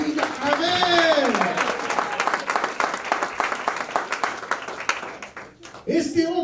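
A church congregation breaks into sustained applause offered as praise to God, dense clapping under a speaking voice that fades near the end before a voice returns.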